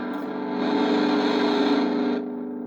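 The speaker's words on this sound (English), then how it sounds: "It's just it's a great classic distortion pedal" A sustained, heavily distorted electric guitar chord through an MXR Distortion Plus pedal, played on a semi-hollow 335-style guitar, rings out gritty and loud, then fades into a lingering buzz.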